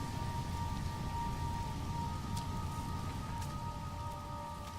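Toxic rain falling on an alien planet in the video game No Man's Sky, a dense, steady hiss of rainfall with a faint tonal drone beneath, continuous and fairly close.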